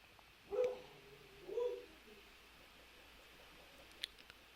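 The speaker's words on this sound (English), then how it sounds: "Sounds like I have an angry dog outside." An angry dog barks outdoors, two faint, distant bursts close together near the start, then quiet background with a couple of small clicks.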